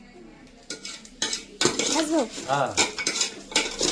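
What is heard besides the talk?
stirring mutton in a cooking pot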